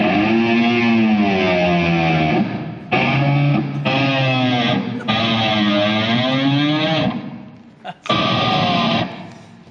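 Heavily distorted electric guitar tones from the "rhino" effects patch on a pedalboard warble and bend in several loud, sustained phrases broken by brief gaps, with no talking over them.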